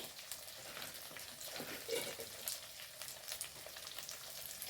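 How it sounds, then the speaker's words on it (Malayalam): Date and green chili pickle being stirred with salt for an Onam meal, a faint, steady sizzle with soft scraping strokes throughout, no talking. "ലേശം ഉപ്പിട്ട് ഒന്ന് ഇളക്കി കൊടുക്കാം കേട്ടോ"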